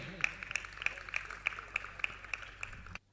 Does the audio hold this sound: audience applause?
yes